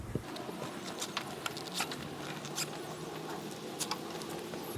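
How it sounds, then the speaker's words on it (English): Zipper of a rooftop tent rain cover being pulled open outdoors, heard as short scratchy zips and rustling bursts of fabric spaced across the stretch, fairly close and moderate over a soft background. "now the entire rain cover's unzipped."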